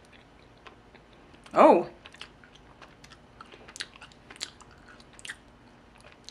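Raw honeycomb being eaten close up, with faint wet chewing and crunchy clicks spread throughout, while a voice makes a short exclamation partway through.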